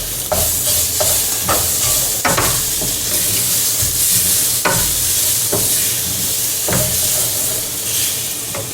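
Grated garlic, two large microplaned cloves, sizzling steadily in a hot pan with a little salt, a continuous close frying hiss broken by repeated scrapes and knocks of stirring, with no talk.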